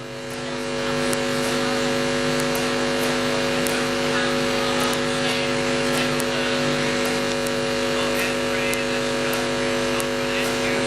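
Speedway race car accelerating up the main straight during a final at Gympie Speedway, a steady loud engine drone sustained throughout under crowd and announcer ambience with continuous background noise.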